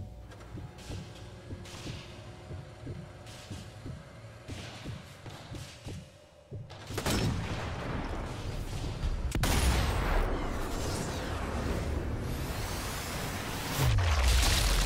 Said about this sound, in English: Who's, who's doing all those tiny explosions?